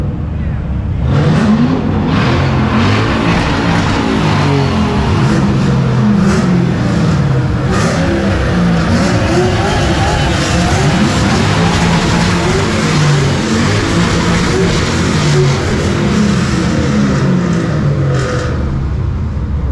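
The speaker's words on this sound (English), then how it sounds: "they were going to start revving it" A loud car engine revs and roars continuously, rising and falling in pitch, with faint crowd voices mixed into the noise.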